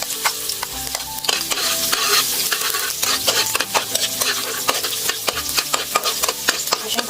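Garlic sizzles in hot cooking oil with a loud, continuous hiss, while a utensil stirs and scrapes against the pan in a busy run of clinks and taps. No voices.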